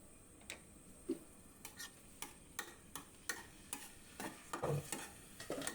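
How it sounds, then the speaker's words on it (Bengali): Marinated chicken frying in a pan makes a faint, low sizzle, broken by light clicks and taps from stirring at a loose, irregular rhythm, with no talking. "চিকেনটা একটু ফ্রাই করে নিতে হবে।"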